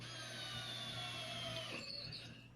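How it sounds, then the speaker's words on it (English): Power drill boring angled holes into a segmented maple bowl with mahogany accents, a steady close whine running almost unbroken for a couple of seconds before easing off at the end. "I'm drilling these holes at an angle, and my goal was to create kind of long oval shapes"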